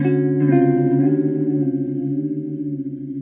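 Through an Echolalia delay pedal on square-wave modulation, a held guitar chord rings with choppy, stepped pulsing in its repeats, loud at first and gradually decaying, with no talking over it.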